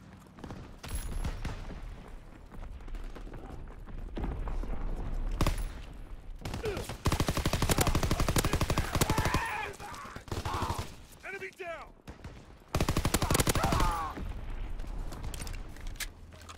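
Gunfire in the Call of Duty WW2 multiplayer video game: dense bursts of automatic fire and shots, loud and near, with heavy barrages around the middle and near the end, and voice callouts heard throughout.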